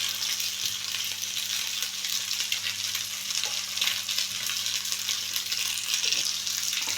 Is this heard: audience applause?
no